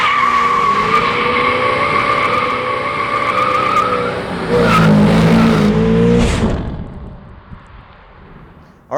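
A car with a GM 12-bolt rear differential, upgraded to positraction with new gears, launches hard and its rear tires squeal loudly under engine revving, then the sound fades and the engine noise drops away near the end.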